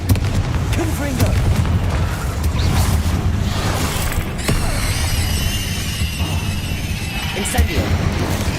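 A Confringo blast spell fires in Hogwarts Legacy, with booming explosive impacts and crackling debris in a dense, continuous battle din, while a voice speaks over it.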